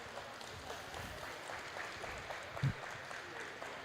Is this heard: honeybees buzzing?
no